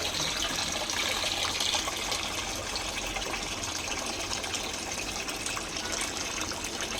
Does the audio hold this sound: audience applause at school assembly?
no